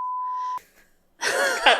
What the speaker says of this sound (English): Beep that.